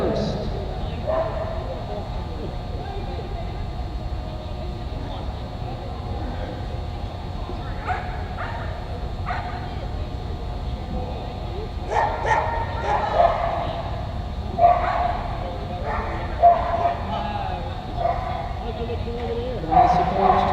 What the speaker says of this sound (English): Now she takes the stage with her border collie named Snitch.